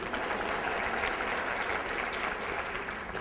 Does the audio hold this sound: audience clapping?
yes